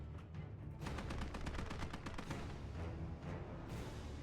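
Gunfire in the World War II game Gates of Hell: rapid machine-gun bursts and rifle shots rattle in quick succession, fairly close and steady, with no voices over them.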